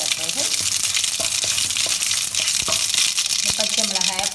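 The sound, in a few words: mustard seeds spluttering in hot oil in a pan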